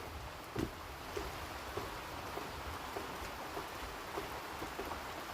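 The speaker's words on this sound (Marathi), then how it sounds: "पाऊस पडला" Steady rainfall patters in a constant wash, with occasional louder drips landing nearby at a loose, irregular rhythm.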